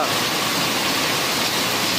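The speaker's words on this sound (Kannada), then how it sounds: "ಭಾರೀ ಮಳೆ." Heavy rain pours steadily across Sira taluk, Karnataka, a dense, continuous hiss filling the whole stretch at an even, loud level with no breaks.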